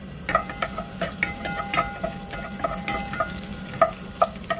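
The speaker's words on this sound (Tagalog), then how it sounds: "nakalagay na tayo ng oil. Lagay na natin ang ating garlic." Chopped garlic sautés in hot oil in a home kitchen, a steady close sizzle broken by frequent clinks and scrapes of a utensil stirring the pan.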